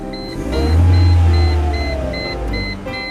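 Mercedes SLK230 engine shutting down through an aftermarket smart push-start alarm system: a close idle rumble swells briefly, then winds down and settles, with a repeating electronic beep over it.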